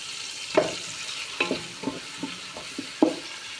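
Chopped tomatoes frying in a pan are stirred with a utensil, giving several sharp scraping clacks at irregular intervals over a soft background sizzle.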